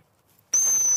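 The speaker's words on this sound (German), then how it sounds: "der nächste Schritt wäre jetzt wieder unser Signal, die Pfeife" A single dog training whistle blast used for puppy recall, one short, sharp, high, steady pitched tone of about half a second that cuts in loudly from near silence and stops cleanly.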